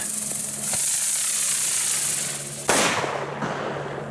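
A firework hisses and crackles, then bursts with a sharp bang followed by a brief fizzing spray, at an outdoor spot with strong echo.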